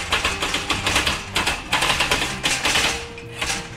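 Wheel of the elevation system on a BBQ09SS round grill turned by hand, producing a steady run of rapid, clicking mechanical ratchet ticks close up, with brief pauses between bursts.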